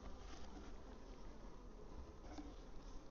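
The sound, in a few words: honey bees buzzing at the hive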